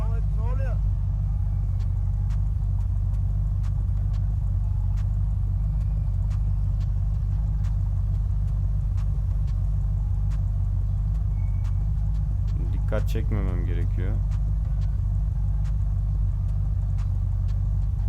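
A car engine idling in the video game Unturned, a steady low drone running throughout at constant level, with someone speaking over it briefly.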